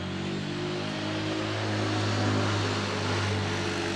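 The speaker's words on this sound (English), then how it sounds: "you get a lot of traffic on this road" Steady engine drone of traffic passing on a road, a continuous low rumble that swells slightly as a vehicle draws closer, with no talking.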